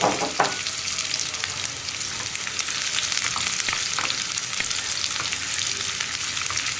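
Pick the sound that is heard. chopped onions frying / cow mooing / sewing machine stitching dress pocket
chopped onions frying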